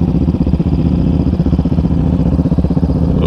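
A Yamaha Raptor 700 ATV fitted with an Empire exhaust idles close by with a deep, even, pulsing thump and a slight mechanical clatter, running steadily throughout in a forest setting.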